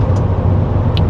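A Chevy 3500 one-ton dually truck with a flatbed service body and toolboxes drives along, giving a steady, close low engine and road rumble inside the cab.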